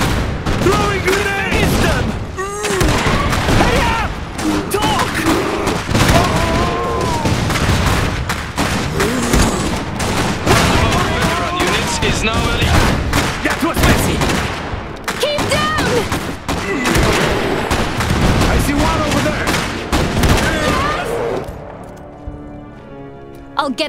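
Sustained battle gunfire in the Iron Harvest 1920+ strategy game, dense volleys and rattling shots running nearly throughout at high loudness, mixed with shouted voices and music before thinning out at the end.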